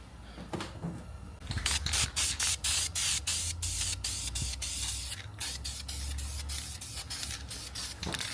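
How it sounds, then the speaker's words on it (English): Primer sprayed from an aerosol can onto brake calipers for a Chrysler 300 Redeye rebuild: loud, close hissing bursts, mostly continuous with brief repeated interruptions as the nozzle is pressed and released. "let's go ahead and apply our first coat of primer"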